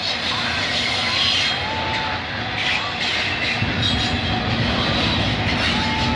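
A train rolls past at Mile 32 on the Oakville Subdivision with a loud, steady rumble of wheels and cars close by, plus faint brake or wheel squeal, filling the whole stretch.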